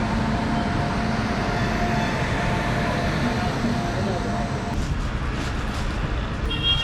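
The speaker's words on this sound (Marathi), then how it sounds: "फायनली आपली ट्रेन आलेली आहे" A Panvel–Karmali passenger train pulls in at platform 2 of a Konkan station, a steady low rumble of wheels and carriages filling the whole stretch with station noise around it.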